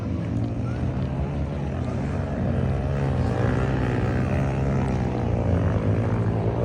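On a river at Minalungao, Nueva Ecija, a motorized watercraft engine drones steadily at close range, a loud, continuous buzzing hum that swells slightly partway through, with faint background voices.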